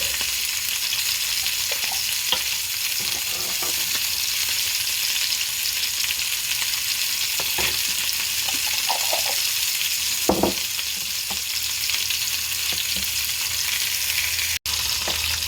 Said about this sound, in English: cooking the onion and garlic in the butter and the olive oil just until the onion starts to soften